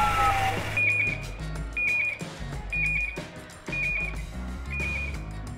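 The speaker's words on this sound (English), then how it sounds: "we just had to shoot with smoke alarms just blaring in the background" On a short-film set, smoke alarms shriek in repeated high piercing beeps at a steady rhythm, about once a second, loud over a busy background of rumble and movement.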